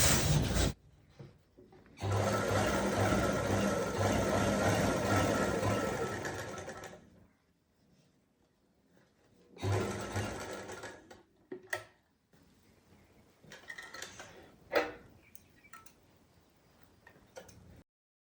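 A sewing machine stitches elastic onto saree fabric in two sustained close-up runs of fast, rhythmic whirring, then a few short bursts and clicks separated by quiet pauses.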